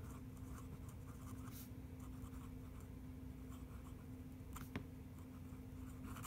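Very faint, soft scratching comes from a Daiso fountain pen nib dragged in reverse across paper, a quiet continuous scrape under a low steady background hum.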